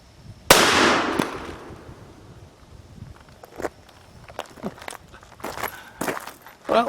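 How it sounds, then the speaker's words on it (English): A Cimarron 1851 Navy .36 caliber revolver fires once at a shaving cream can, a single loud sharp report with a decaying tail, followed by scattered faint clicks and thumps. "the little 36 caliber Navy has not shown itself to be a real powerhouse, but let's see if it can open up a can of shaving cream"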